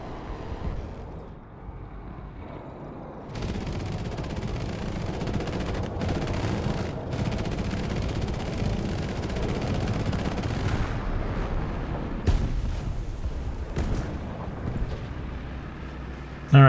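Sustained gunfire aimed at a ZSU anti-aircraft vehicle in War Thunder, heavy dense bursts of automatic fire and booming shots rolling continuously, loud and close, with brief gaps before the shooting resumes.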